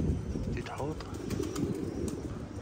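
Pigeons coo softly at close range in a short, low, repeated pattern, with someone talking over them and faint chirps in the background.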